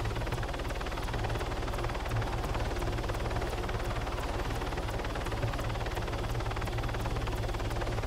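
A helicopter in the video game Arma 3 Altis Life, its steady rotor chop and engine drone running continuously with rhythmic blade pulses throughout, heard alone without talk.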